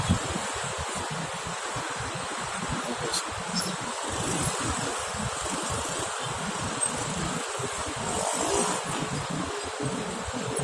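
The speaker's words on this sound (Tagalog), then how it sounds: "Sasakyan sa ibabaw guys." Steady road traffic with cars and motorcycles passing on an overpass in Las Piñas, a constant near rumble with a brief louder swell, alone without talk.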